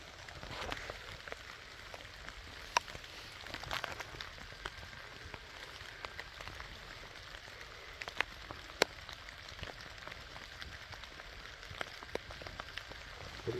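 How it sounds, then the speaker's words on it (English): Steady rain patters outdoors at a metal-detecting dig by an 1880s train station in Maine. It sounds as a dense, even hiss with a few sharper drop hits and no talk. "This rain sucks."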